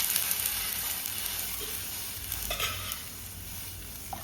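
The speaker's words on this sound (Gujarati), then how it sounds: "હવે એની અંદર છાશ નાખી દેવાની છે." Buttermilk is poured into a hot tempering for a Gujarati leftover-roti curry and sizzles in a continuous crackling hiss, with brief stirring clinks, close and with no talk.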